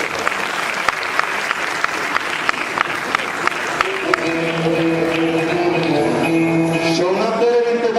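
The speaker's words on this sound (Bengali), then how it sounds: "করতালি দিয়ে অভিবাদন জানাবে।" A crowd applauds steadily at a tenth-anniversary result celebration event. Clapping fills the first half, then bright tonal music joins over the continuing applause.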